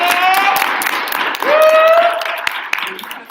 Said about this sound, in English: So clap for Ayla!